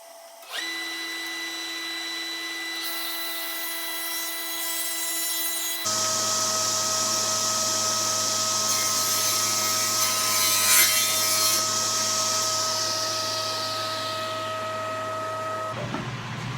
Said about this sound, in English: what I'm going to do is cut a nice beveled edge on all 4 sides of the top